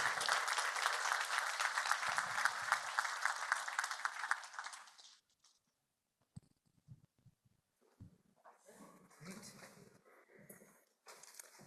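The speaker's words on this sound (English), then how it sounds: "please join me in giving a warm round of applause to our panelists" Audience applause for conference panelists at a plenary policy session, loud sustained clapping for about five seconds that stops abruptly, followed by quieter scattered room sounds and brief talk.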